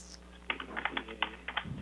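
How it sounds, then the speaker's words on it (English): Fingers typing on a computer keyboard in a quiet home room, a quick uneven run of soft close key clicks, faint and alone. "That's what the typing noise is to make it sound like an office."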